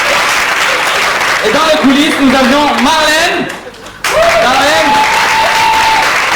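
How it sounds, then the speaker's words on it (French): Sustained applause from a theatre audience at an amateur stage show, loud and steady, with a voice announcing over the clapping throughout and a brief dip partway through. "Un maximum d'applaudissements pour lui."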